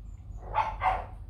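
A dog gives two short, sharp barks close by, one right after the other, against quiet background noise.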